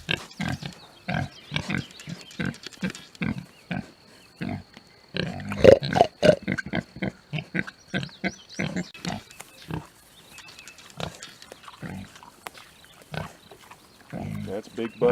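American Guinea Hog pigs grunt and root around in a grassy pasture in the morning, with short bursty grunts repeating close by while a person talks to them.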